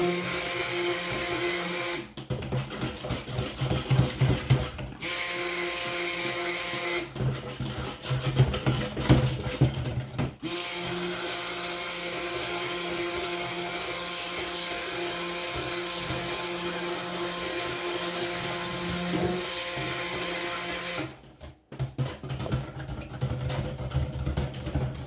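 Stick blender whirring through cold process castile soap batter mixed with clays and charcoal, loud motor bursts of several seconds with brief pauses between them, close and without talking.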